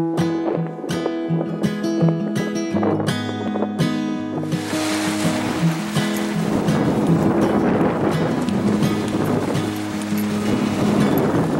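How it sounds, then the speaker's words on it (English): Ocean waves wash steadily onto a chilly Charleston beach, a broad continuous roar of surf rising and holding loud, following a stretch of music at the start. "we decided to head off to the beach"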